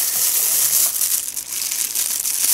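A plastic package is handled, giving continuous close crinkling and crackling with small bursts of rustle throughout, no voices.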